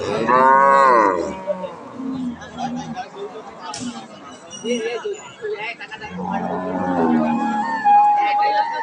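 A Friesian dairy cow moos loudly at a cattle market, one long low call at the start and another later, with people talking and crowd babble around it.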